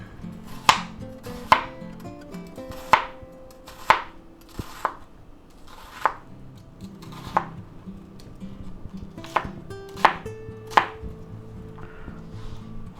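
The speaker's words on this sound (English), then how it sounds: "Now let's go ahead and slice that up." A knife slices through half a peeled onion on a cutting board, about a dozen crisp, close chopping strokes at an uneven, unhurried pace with quiet gaps between them.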